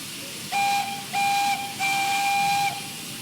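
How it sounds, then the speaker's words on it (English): Emily the steam engine from Thomas and Friends sounds her whistle three times, a short blast then two longer chord-like toots over a soft hissing background. "Oh, she's got more than one whistle sound."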